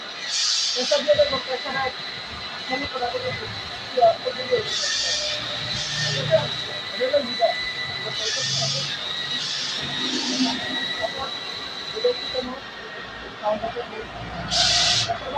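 An oxygen gas torch flame hisses under pressure at a technical training centre, a steady bright hiss with brief louder bursts as pressure is raised, while someone talks over it throughout.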